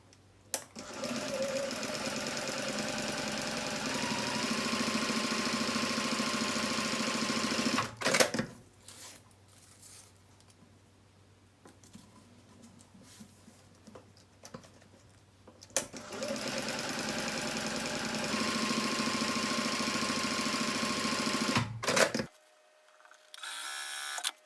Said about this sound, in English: And then I will sew my next seam.